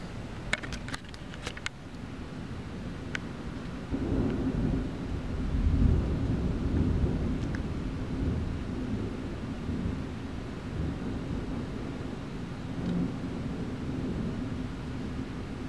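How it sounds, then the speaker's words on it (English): A big thunderstorm with lightning, rumbling thunder and steady heavy rain. The low roar holds throughout, with a few sharp crackles near the start. "There is just this big, big storm blowing."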